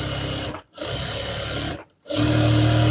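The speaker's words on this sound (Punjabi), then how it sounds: "ਬਿਲਕੁਲ ਕੱਪੜਾ ਸੈੱਟ ਕਰਕੇ ਹੀ ਆਪਾਂ ਨੇ ਸਲਾਈ ਲਾਉਣੀ ਹੈ ਜੀ" A sewing machine stitches cloth for a Nihang Singh chola in close, loud bursts of rapid whirring, pausing briefly twice before running again at a steadier, heavier hum.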